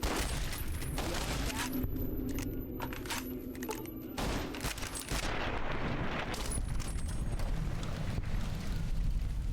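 Caravan shotgun blasts in the post-apocalyptic game Fallout: New Vegas, several sharp booming shots spread across a busy mix of game noise, with talk over the top.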